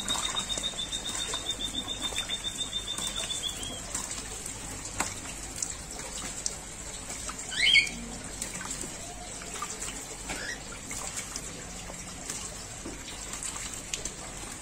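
A white-breasted waterhen bathes in shallow water, splashing and fluttering in brief wet flapping bursts over a steady trickle, with a thin high tone early on.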